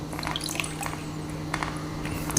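Peeled raw mango being washed in water: light splashing and dripping with faint trickling under a steady low hum, close and fairly quiet, no talking.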